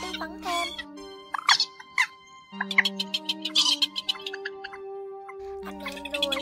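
Purple swamphen and white-breasted waterhen calls played back for night netting of migrating birds, with loud repeated clucking and squawking bursts over sustained tonal hooting notes, close and clear.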